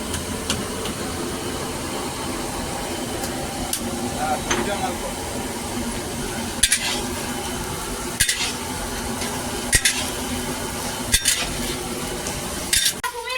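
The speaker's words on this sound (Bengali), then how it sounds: "পুরো মশলাটা পুরো একদম ফুল ভাজাভাজি হচ্ছে" Spice paste (masala) fries in a pan with a steady sizzle and hiss, broken by periodic clinks and scrapes as it is stirred, while people talk nearby.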